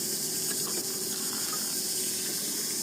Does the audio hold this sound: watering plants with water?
yes